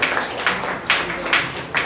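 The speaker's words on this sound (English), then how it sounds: "One round of applause to him." Audience clapping for a volunteer at a motivational talk, arriving in short rhythmic bursts of hand claps that swell about every half second, close and moderately loud.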